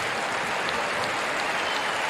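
A large outdoor crowd at the Sidney Myer Music Bowl in Melbourne applauding the orchestra, a dense, steady wash of clapping that holds evenly throughout.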